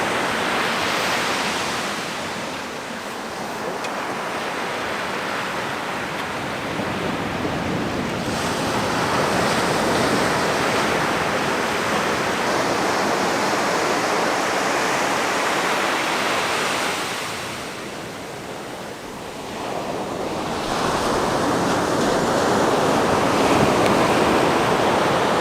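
Ocean waves wash and break on a beach in a continuous loud hiss, swelling and receding in long surges with no voices.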